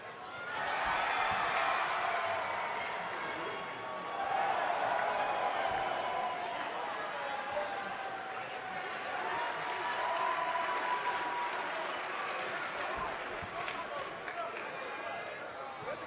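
A wrestling arena crowd at an IWA Ignite show applauds and cheers in a continuous roar that swells and dips, while commentators talk over it.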